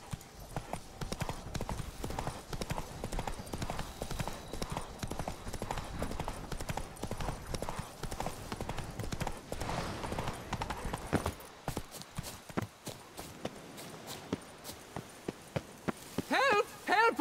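Horse hooves clip-clop steadily at a gallop in The Witcher 3, loud and close for most of the stretch, then thin out into sparser, irregular hoofbeats near the end with some game noise mixed in.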